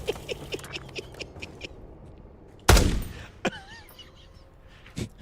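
Gunfire in Call of Duty Black Ops 6, with a loud sudden burst of shots after a stretch of quiet small clicks, then a couple of sharper reports and a faint chirping tone in the background.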